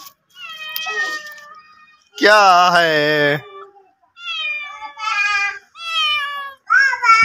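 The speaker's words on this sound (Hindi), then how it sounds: "भाग रही काली बिल्ली।" A black cat meows several times at night in a village home, with one long, loud, drawn-out call followed by shorter, rising meows, and a brief spoken question between them.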